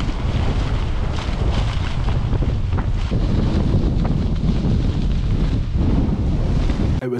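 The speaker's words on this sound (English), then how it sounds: "the wind then catches the loose flysheet like a sail" Strong wind gusts buffet a loose tent flysheet outdoors, a constant loud rumbling roar with rustling flaps, heard alone throughout.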